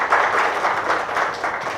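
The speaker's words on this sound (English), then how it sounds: "Thanks for giving the claps" A conference audience applauds after a presenter thanks colleagues during a big data talk in India, producing a steady, dense wash of clapping that holds at an even level throughout.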